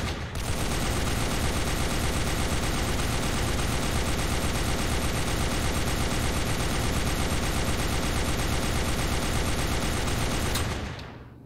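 An M2 Browning heavy machine gun fires one long continuous burst lasting around ten seconds, a dense, loud, steady hammering of rapid shots that stops abruptly.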